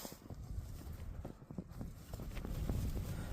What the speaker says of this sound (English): Sounds like something's outside, like walking about.